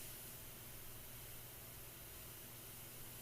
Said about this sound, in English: I can even kind of like put a little bit of red spray on this secondary glow here